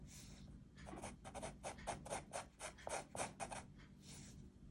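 Pencil scratching on paper as a rectangle is drawn, a fast run of short, quiet strokes back and forth heard up close, with no voice.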